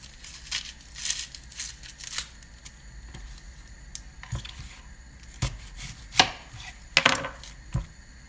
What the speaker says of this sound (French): Je vais hacher le basal.